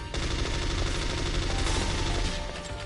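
Rapid gunfire in the PS5 Metal Gear Solid, a dense, continuous loud rattle of shots lasting nearly three seconds with no pauses.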